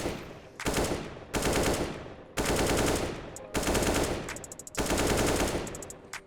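Automatic AK rifle fire in the Counter-Strike (CSGO) video game, loud close bursts of rapid shots repeating in five sustained volleys separated by brief pauses, with no talking.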